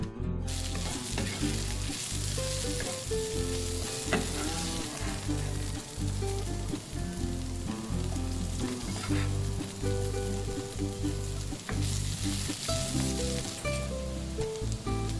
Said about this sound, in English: Carrots and potatoes joining the green beans now. Let's now mix them up.